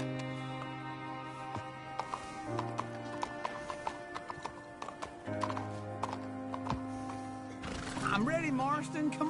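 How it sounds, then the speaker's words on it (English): Horse hooves clip-clop in a steady, uneven rhythm alongside tonal background music, with a horse whinnying near the end and people talking over it. "You got a horse? Get on it."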